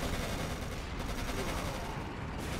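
Rattling gunfire in the WWII strategy game Codename: Panzers, infantry firing on a tank column: a dense, continuous crackle of rifle and machine-gun shots at steady loudness throughout, with no talk.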